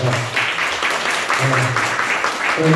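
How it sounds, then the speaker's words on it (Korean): Warm applause from a Sunday church congregation welcoming newcomers, a brief continuous burst of clapping with a low voice murmuring underneath. "한번 일어나 주시면 박수로 격려하겠습니다"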